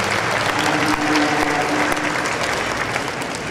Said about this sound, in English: Let's put our hands together for these youngsters.